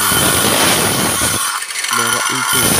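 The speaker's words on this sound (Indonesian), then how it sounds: "Di sini saya menggunakan gergaji GMT 7 inci untuk mesin pemula" GMT 7-inch power saw cutting wood whines loudly and steadily with a hissing, rasping texture, briefly easing off before running on again.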